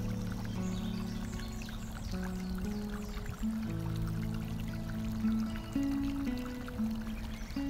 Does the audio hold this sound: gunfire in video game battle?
no